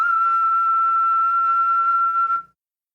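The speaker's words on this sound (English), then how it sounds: "I can whistle an E6, which sounds like this." A person whistles a single sustained E6 note, a clear, pure steady pitch held for about two and a half seconds before cutting off into silence.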